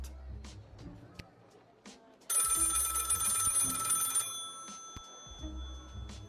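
A telephone rings inside a video game, a loud, steady electronic ring lasting about two seconds that stands out clearly over quieter background game sounds.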